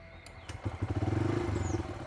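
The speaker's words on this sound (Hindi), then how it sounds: "बाइक जो है अभी सीएनजी मोड में शुरू हो चुकी है।" A Bajaj Freedom CNG motorcycle, running in CNG mode, starts up after a couple of short clicks and settles into a close, rapid, pulsing idle.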